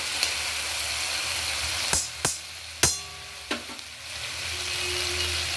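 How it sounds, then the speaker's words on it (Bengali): Garam masala and ghee sizzle in a pan for a fish curry, a steady hiss broken by a few sharp clinks and taps of a utensil, close and with no speech. "এবার আমি একটু গরম মশলা দিয়ে দিলাম একটু ঘি দিয়ে দিলাম"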